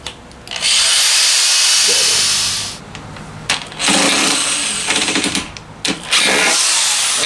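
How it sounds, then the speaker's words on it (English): Power drill driving a screw into a wood frame for a bike camper build, loud and close, in several long whirring bursts separated by short pauses as the screw is sunk. "I actually put the screw into the drill"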